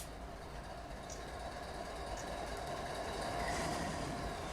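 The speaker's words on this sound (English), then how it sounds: "Hopefully everybody can hear the trains okay." A BNSF train in the Run8 railroad simulator climbs Cajon Pass, giving a faint, steady engine drone and rolling rumble that holds evenly throughout with no voices.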